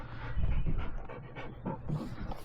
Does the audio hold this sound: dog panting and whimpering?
yes